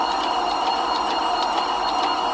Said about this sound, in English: we're going to throw it on the surface grinder